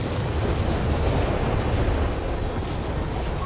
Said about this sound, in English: Definitely putting that 25-pounder gun here to work.